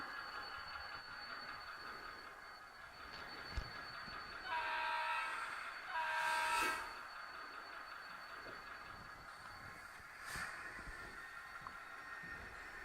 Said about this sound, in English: As the 582 starts, you'll hear the rail squeal and clank. That's a new feature on the ESU decoders.